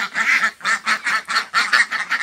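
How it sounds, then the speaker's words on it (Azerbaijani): Ducks quacking while being fed on a small poultry farm, about nine loud, close, nasal calls in quick rhythmic succession with brief gaps between them. "Bax, əzizlərim, ördəklərə də ondan verirəm."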